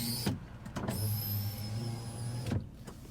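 A Toyota Tacoma's rear power window motor whirs as the button is pressed, a few seconds of steady electric hum bracketed by clunks as the glass starts and stops, heard up close inside the cab.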